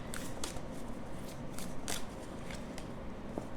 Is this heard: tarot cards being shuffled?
yes